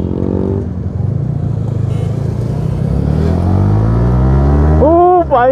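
A Yamaha R3 motorcycle engine runs at a steady idle with a low hum, then climbs in pitch through short revs near the end, while someone talks over it.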